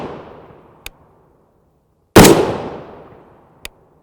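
A single loud .308 Winchester rifle shot firing a 150-grain FMJ Wolf round into gel outdoors, a sharp crack with a long decaying tail, preceded and followed by small clicks; no talk.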